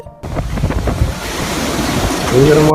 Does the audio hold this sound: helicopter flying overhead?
no